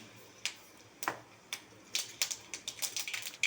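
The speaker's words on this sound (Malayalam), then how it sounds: "കുറച്ച് കടുക് പൊട്ടിക്കാം" Mustard seeds popping in hot oil mixed with a little butter, cooked for pineapple gojju: sharp, sparse crackles at first, then quicker irregular pops crowding together, fairly close and quiet with no talk.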